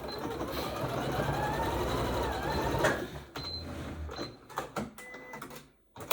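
A sewing machine stitches the elastic back strap of a headband, running in a close, steady whir for about three seconds, then breaking into short stop-start bursts and clicks.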